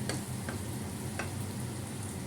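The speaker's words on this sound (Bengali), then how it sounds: "দেখুন ভর্তাটা কি সুন্দর টকবক করে ফুটছে।" A vegetable bharta thickens in a pan on the stove, bubbling and sizzling in a constant soft fry, with a few sharp pops breaking through the hiss.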